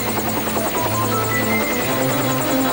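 A helicopter's rotor thumps and whines continuously, loud and close, with no voices.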